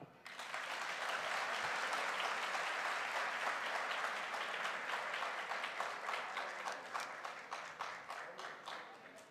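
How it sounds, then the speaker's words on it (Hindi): A seated audience at a direct-selling success ceremony claps for a winner taking the stage, sustained broad applause that swells quickly and tapers into scattered individual claps near the end. "तालियां।"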